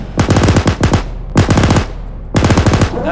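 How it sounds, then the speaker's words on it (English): Three loud, close bursts of machine gun fire in the combat game Arma 3, each a rapid rattling string of shots separated by short gaps. "Yep, thermal contact. That's a machine gun."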